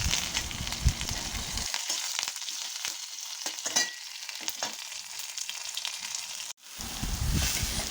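Curry leaves and mustard seeds hit hot oil in a kadai with a loud sizzling rush, then a steady fizz with sharp pops and spoon stirring, cutting out briefly before the sizzle swells again, close up.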